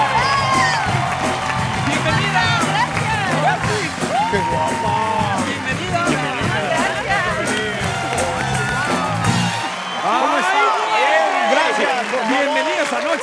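A television talk-show studio audience applauds and cheers for two guest actresses, a dense, loud wash of clapping, whoops and shouts that runs throughout and thins slightly near the end, with voices mixed in.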